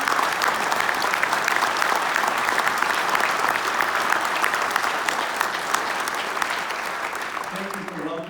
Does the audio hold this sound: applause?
yes